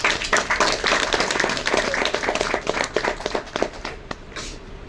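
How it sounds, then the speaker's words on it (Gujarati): Enthusiastic audience clapping for a guest speaker at a gathering, dense and continuous for several seconds, loud and close, fading slightly near the end. "એકવાર સાહેબ માટે જોરદાર તાળી."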